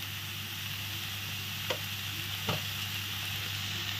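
Soybean chunks fry in hot mustard oil in a kadai, giving a steady sizzle with two brief scraping clicks as they are stirred.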